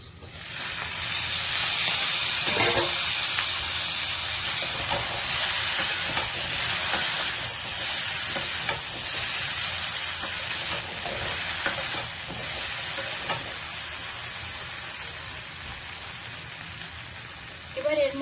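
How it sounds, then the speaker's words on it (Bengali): Vegetables with pumpkin for shukto are stirred in a pot, a loud steady hiss of frying with scraping spoon strokes, close and continuous, ending in a small clank. "নেড়ে চেড়ে আবার ঢাকা দিয়ে দেবো।"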